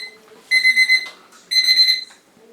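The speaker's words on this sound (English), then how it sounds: "Sorry, that's my timer for the spaghetti." A kitchen timer set for cooking spaghetti beeps loudly in two bursts of rapid electronic beeps, each lasting about half a second, with a quiet pause between them.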